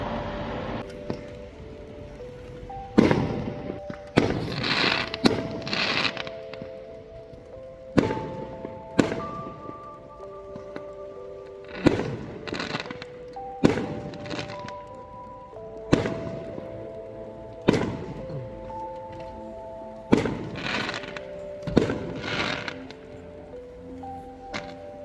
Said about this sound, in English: Somebody also set off a load of fireworks and I videoed that from my bedroom window